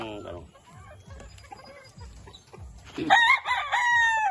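Chickens cluck in short repeated bursts inside a cardboard box on a farm, then a rooster crows loudly and close near the end.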